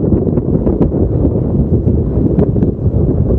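Strong wind of about 20 knots buffets the microphone aboard a sailboat at sea, a loud continuous low roar with gusty rumbling and occasional faint clicks.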